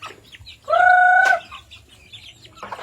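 A chicken gives a loud, drawn-out cackling call lasting under a second, with faint rustling and quieter farmyard noise before and after.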